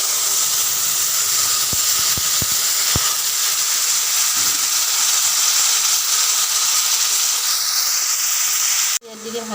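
Water is poured into a hot pan holding fish and meets it with a loud, steady hissing sizzle that carries on for several seconds, broken by a few sharp ticks and clacks of a utensil, then ends abruptly.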